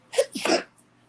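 A single sharp human sneeze, close and clear: a short intake followed by one explosive burst, then quiet.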